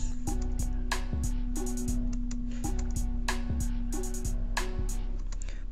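Trap beat built in FL Studio 20, a deep sustained 808 bass pattern under crisp rapid hi-hats and snappy snare hits, looping in a steady rhythm, loud and alone without any voice.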